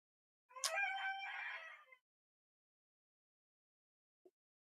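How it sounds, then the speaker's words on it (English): A rooster gives a single loud, close cock-a-doodle-doo crow lasting about a second and a half, followed by silence and a faint brief sound near the end. "That rooster is loud as hell."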